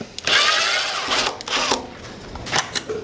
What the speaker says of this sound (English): I'm just going to take my screwdriver and run those screws out